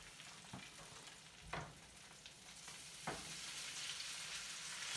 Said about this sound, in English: So it should sizzle when you put it in the hot oil.